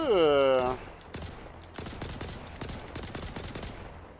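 A Kastak Arms Custodian SMG in the Star Citizen video game fires a rapid string of sharp shots after a brief voice at the start, the bursts fairly faint and evenly spaced.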